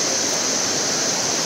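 Water rushes steadily down the waterfall at Sahastradhara in Dehradun, a loud, unbroken hiss close by with no voices.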